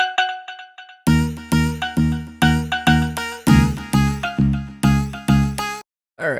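Bright mallet notes from a tropical-style software instrument plugin, a few soft plinks leading into a bouncy, evenly spaced melodic run of struck tones, clear and close with no voices.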